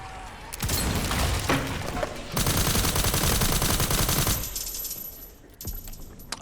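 A tactical assault rifle firing SMG bullets in the Resident Evil Requiem video game, heard as close, loud automatic bursts, with one long rapid rattling stream in the middle and shorter bursts before and after.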